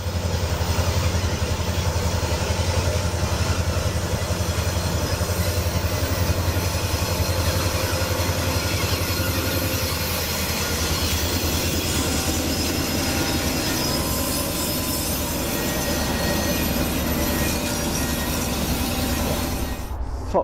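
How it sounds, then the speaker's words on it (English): A Shay steam engine and a GP9 diesel locomotive rumble along slowly side by side, a dense, continuous roar of engines and rolling rail wheels with faint squeals, holding steady and loud for the full stretch without speech. "This early-stage race between a Shea steam engine and a GP9 diesel is possibly the slowest train showdown ever"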